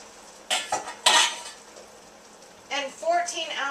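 A spoon scraping and clinking against a pot of diced and crushed canned tomatoes for homemade marinara, a few separate stirring strokes with quiet gaps between them, and a voice speaking briefly near the end.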